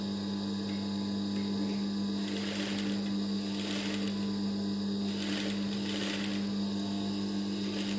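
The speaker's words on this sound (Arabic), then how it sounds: "غادي نضرب بالماكينه وحده جوج وعاد نرجع عاوتاني" A sewing machine stitches fabric while a garment back is sewn, its motor running in several short bursts of rapid needle clatter over a constant electrical hum, with brief pauses between runs.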